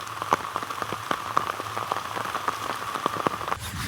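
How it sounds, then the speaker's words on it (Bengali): Heavy rain patters under a bamboo grove, a dense continuous wash of close drops with sharp individual taps striking leaves and surfaces, fairly quiet and steady with no voices. "আরও জোরে পড়তে লাগলো পানি।"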